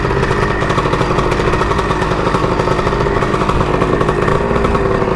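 A two-stroke dirt bike engine runs steadily and loud up close, a raspy buzzing idle with rapid firing pulses that holds throughout without pause.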